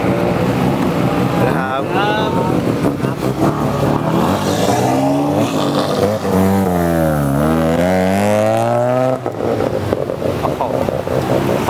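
A BMW X7 engine revs at a car show, the pitch sweeping up and falling back in a loud, close run, with people talking throughout.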